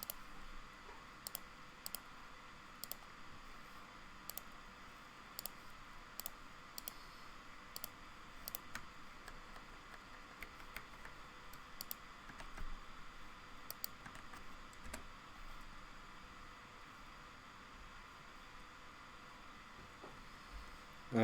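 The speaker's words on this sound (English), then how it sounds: "Hold on, I'm typing." Steady keyboard typing with irregular sharp key clicks over a soft background hiss, fairly quiet and close.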